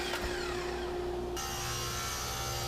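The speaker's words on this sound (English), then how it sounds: "I ripped it in half at the table saw." A table saw rips a wooden French cleat board lengthwise, a steady whining hum with a cutting tone that shifts partway through, close and continuous.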